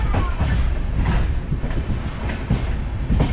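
A Chennai Mangalore Super Fast electric train, No. 12685, rolls along near Shoranur with a steady loud rumble and rhythmic clickety-clack of wheels, carrying on without a break.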